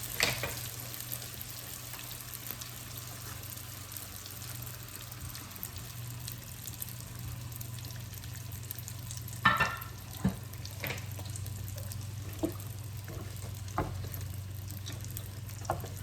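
Vegan donuts fry in hot oil with a soft, steady sizzle under a low hum, broken by a few sharper splashes and clinks as they are handled, with no talk.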